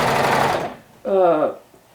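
A home sewing machine top stitching a Love Notions Whistler summer hack garment, giving one short mechanical burst of rapid stitching after a stretch of talk and a brief pause.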